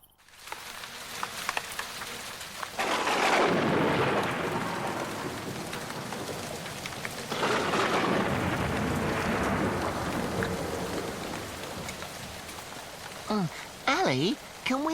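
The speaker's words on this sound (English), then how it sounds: "Only it's raining." Rain pours steadily outdoors with two swelling rumbles of thunder, while faint chirping and a few brief vocal sounds come near the end.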